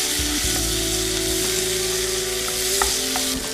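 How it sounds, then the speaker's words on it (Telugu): Small cut amla (Indian gooseberry) pieces frying in butter in a pan, a steady close sizzle with a continuous hiss and some light stirring scrapes throughout. "కొంచెం దగ్గర పడేంత వరకు వీటిని మనం చక్కగా బటర్లో వేయించుకోవాలి"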